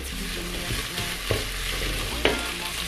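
Onions and tomato paste sizzle steadily in a hot pan while being stirred, a constant frying hiss with a few distinct scraping knocks of the utensil against the pan.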